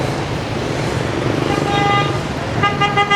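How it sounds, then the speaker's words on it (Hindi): Busy Hanoi street traffic in Vietnam, a steady roadway roar of motorbikes and cars with several horn toots sounding out near the end, heard close and fairly loud. "वाह भाई, जिधर नज़र दौड़ाओ उधर ही आपको एक तो ट्रैफिक मिलेगी।"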